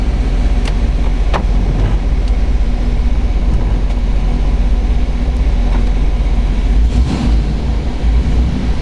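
A 1968 Buick Riviera GS with a 430 V8 and its original exhaust idles steadily, a low, even rumble that stays quiet and constant with a few faint clicks over it.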